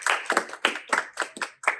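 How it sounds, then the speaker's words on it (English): A handful of people clap in brief, uneven bursts at a student club project presentation, roughly eight distinct claps close by, with no voices. "everyone give Ian a round of applause."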